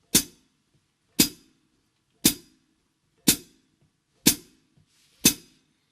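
Six evenly spaced cymbal chicks from a pedal-closed hi-hat, each a crisp short clap with a quick decay, heard alone.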